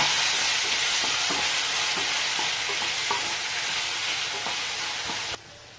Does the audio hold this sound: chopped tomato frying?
yes